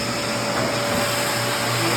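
A vacuum cleaner grooms a Persian cat with sore, scratched ears, a steady loud whirring drone running without a break.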